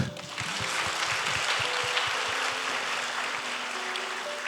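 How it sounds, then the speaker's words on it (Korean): A church congregation at a Friday evening service claps in sustained, dense applause that fills the room at an even level. "감사의 박수를 한번."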